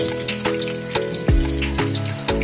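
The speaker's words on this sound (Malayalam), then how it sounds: "അണ്ടിപ്പരിപ്പ് കിസ്മിസ് സവാള ഇതൊക്കെ നന്നായി വറുത്ത് കോരി മാറ്റുക" Cashews, raisins and onions frying in hot oil for chicken biryani, a brief, loud, bubbling sizzle with rhythmic pops and splashes over a musical backdrop.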